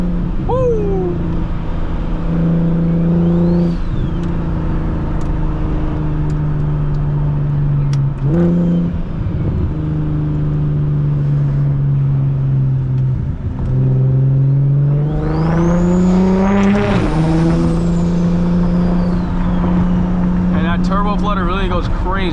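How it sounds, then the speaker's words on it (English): A single-turbo BMW 335is pulls hard from inside the cabin, its engine droning loud and steady and rising through shifts, with a climbing whoosh and turbo flutter later in the run. Voices are heard over it. "Turbo flutter really goes crazy"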